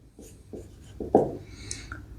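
Someone writes out a physics problem solution by hand, producing short scratchy strokes in quick bursts, close and fairly quiet, with no talking.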